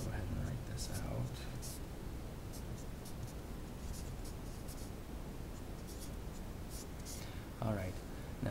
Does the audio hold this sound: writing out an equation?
yes